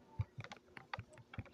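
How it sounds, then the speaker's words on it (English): Fingers tap quickly and irregularly on a computer keyboard while playing Roblox, producing close, soft clacking keystrokes in an uneven burst. "I'm gonna scribble on my keyboard."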